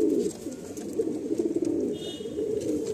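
A pair of Kaldam breeding pigeons, male and female, coo close by indoors, their deep rolling calls pulsing on and off with brief dips between phrases.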